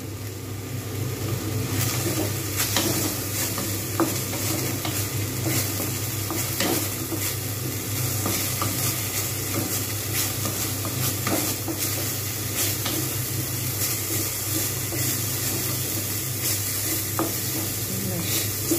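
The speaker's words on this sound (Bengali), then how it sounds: "ডালটাকে একটু ভেজে নিলে অনেক ভালো টেস্ট হয়। জাস্ট আমি হালকা করে ভেজে নেব, পোড়াবো না কিন্তু।" Masoor dal lightly fries in a pan, with a constant close sizzle and repeated scraping stir strokes against the metal and a low background hum.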